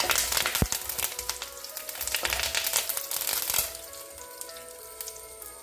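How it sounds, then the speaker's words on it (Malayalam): Curry leaves and dried red chillies crackle and sizzle in hot oil with mustard seeds, a loud dense spatter for several seconds that suddenly drops to a quieter steady frying hiss. "കുറച്ച് കറിവേപ്പില ചേർക്കാം."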